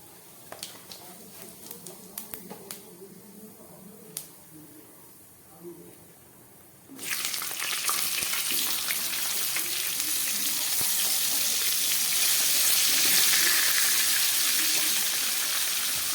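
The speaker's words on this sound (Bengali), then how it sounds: "তেলটা গরম হয়ে গেছে দুধে দিয়ে দিচ্ছি দুটো তেজপাতা আর দিয়ে দিচ্ছি একটু সাদা জিরে ফোড়ন" Two bay leaves and a pinch of white cumin hit hot oil, bursting into a loud, steady hiss of sizzling after a few quiet clinks and faint background voices, the frying sound swelling and holding strong to the end.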